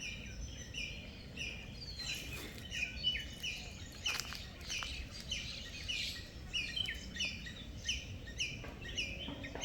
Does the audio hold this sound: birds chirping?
yes